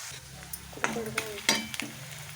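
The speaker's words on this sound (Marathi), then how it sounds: "सर्वप्रथम कांदा भाजून घेते" Onion frying in a pan hisses quietly beneath several sharp metallic clicks and scrapes of a spoon stirring against the pan, spaced irregularly.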